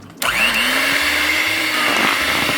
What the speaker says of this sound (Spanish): Lo revolvemos un poquito así para que no nos salga volando toda la harina por todos lados.